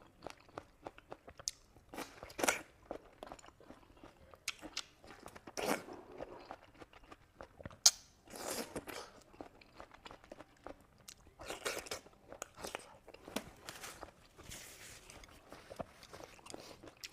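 Pumpkin being bitten and chewed up close, with crisp crunches and wet mastication in irregular bursts, fairly faint, no talking.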